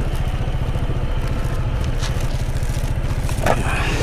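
A motorcycle engine runs close by with a steady, throbbing rhythm and rattling, clattering mechanical noise, plus a few brief knocks over the constant drone.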